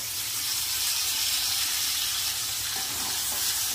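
Fried potato, pointed gourd and taro dropped into a hot pan with spices, giving a loud, dense, continuous sizzle up close with no talking.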